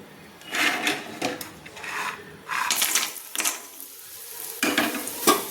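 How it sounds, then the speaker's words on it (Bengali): Bori, small lentil dumplings, fry in oil left over from frying fish, giving a steady sizzle broken by scraping stirs of a spoon against the pan, close and fairly loud. "এই মাছ ভাজার তেলে আমি কিন্তু ভেজে নিচ্ছি বড়িগুলো।"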